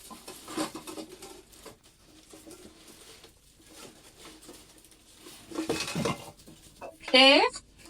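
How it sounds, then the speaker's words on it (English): A brand new pot set being unpacked and handled: scattered metallic clinks and knocks of pots and lids amid packaging rustle, with louder clattering bursts and a sharp squeak near the end. "here it is, my brand new pot set"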